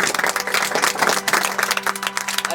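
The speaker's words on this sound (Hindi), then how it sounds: "दोनों के लिए जोरदार ताली होना चाहिए।" Students clapping together in a classroom, a loud, dense burst of applause that holds steady throughout with no talk over it.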